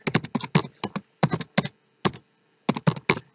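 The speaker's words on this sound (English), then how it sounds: "maybe I can type in a lengthy or brief description of whatever went on with that call" Keys tapped on a computer keyboard while entering a call description, with short, crisp clusters of close keystrokes broken by brief pauses and no talk.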